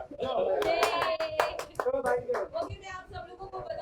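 Audience applause at the Dadasaheb Phalke Indian Television Award 2021 ceremony, with irregular claps over crowd noise and overlapping voices throughout.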